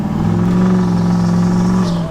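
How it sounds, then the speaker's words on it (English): A tuned diesel pickup truck with a 10-speed transmission runs its exhaust brake, giving a loud, steady droning roar with a sustained whistle on top. The sound holds close and continuous before easing off at the end. "the exhaust brake is, you can hear it for sure now with the whistle."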